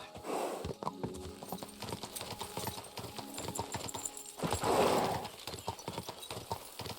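Rhythmic hoofbeats clip-clop steadily as a horse trots in the video game Kingdom Come: Deliverance II, with a brief whinny and snorting breaths mixed in, close and fairly clear.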